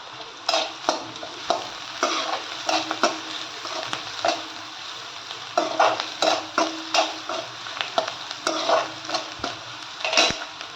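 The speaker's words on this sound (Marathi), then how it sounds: "आता तर लसूण चांगलं त्याच्यात भाजून घ्यायचा कांदा." Onion and garlic sizzle in a pan while a spoon stirs them with repeated scraping clanks against the metal, and the frying hiss continues steadily underneath.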